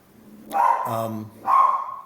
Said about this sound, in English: Sorry, puppy in the background.